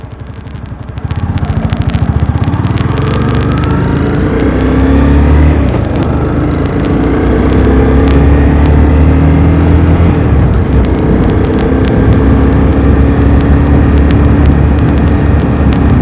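A Honda CBR sport motorcycle rides along, with a loud, close engine drone that climbs and falls through gear changes and is mixed with steady wind rush for the whole stretch.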